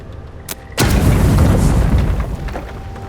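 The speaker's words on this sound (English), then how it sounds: "Robles, grenade." A grenade explosion in the video game Avowed: one loud, heavy boom lands suddenly and rolls on as a long rumbling tail, after a faint earlier pop, with no talk.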